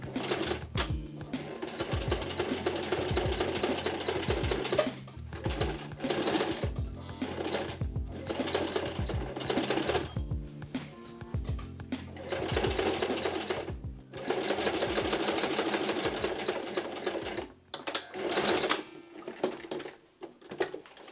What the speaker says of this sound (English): let's see now if we can stitch the box ends